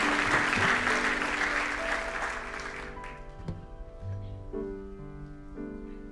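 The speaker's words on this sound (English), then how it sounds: "Give the Lord one more hand clap of praise as our singers sing for us." A church congregation claps along in praise, dense steady applause filling the room before fading as singers' sustained voices and music rise alone.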